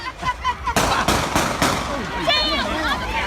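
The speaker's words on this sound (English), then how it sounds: "gunfire erupted in downtown Mobile" Several sharp gunshots crack in quick succession amid shouting voices in downtown Mobile during Mardi Gras, followed by frantic talk and a distant wailing sound.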